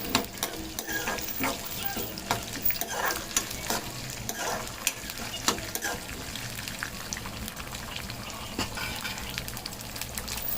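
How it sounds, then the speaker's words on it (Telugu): Chana dal and mustard seeds frying in hot oil for pulihora, with a steady crackling sizzle and repeated spoon scrapes and taps against the pan; no talk. "శనగపప్పు ఇవన్నీ వేస్తున్నాను ఆవాలు వేసుకున్నాను చూడండి ఇలా అన్నీ వేసుకోవాలి"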